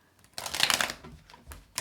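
A deck of tarot cards is riffled in a quick pre-shuffle, a brief papery flutter of snapping cards followed by a couple of lighter taps, with no talking.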